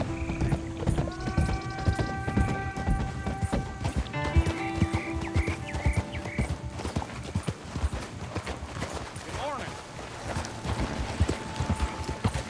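Horse hooves clip-clopping in a steady galloping rhythm while riding in the video game Red Dead Redemption 2, loud and close, with game music and ambient tones around them.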